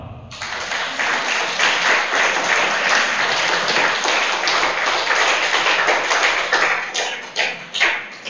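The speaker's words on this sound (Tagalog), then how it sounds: "Mahina yung palakpak." A church congregation claps continuously for several seconds, dense steady applause that fades and breaks into scattered claps near the end.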